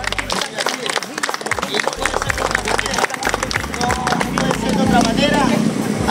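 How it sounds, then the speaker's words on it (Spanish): Crowd applause at an interprovincial amateur boxing club tournament in Quevedo, steady dense clapping for several seconds under voices and hubbub, swelling toward the end. "un fuerte aplauso para este gran personaje"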